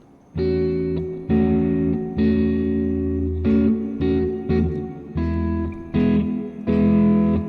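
A guitar plays a triad chord built on a 4, 6 and 9, struck about nine times in a loose rhythm, each strum loud, close and ringing with a slightly distorted tone.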